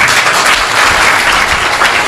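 A crowd claps in a dense, steady wash of applause for two seconds at a spiritual discourse, with no voices rising above it.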